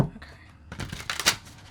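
Tarot cards riffled and shuffled by hand in a stiff deck, a series of soft papery flutters and slaps building to a sharper burst near the end, fairly close with no speech.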